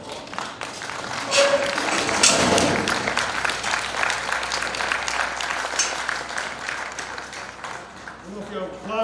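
A seated audience at a talk on cattle handling breaks into sustained applause, a dense, continuous clapping that stays loud for several seconds before a voice starts speaking at the very end.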